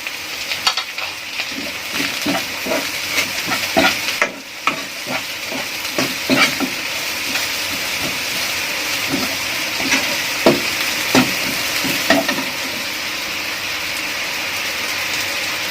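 Pak choy and garlic stir-fried in a hot pan, a loud continuous sizzle broken by repeated scraping stirs of the spatula, close and with no talking.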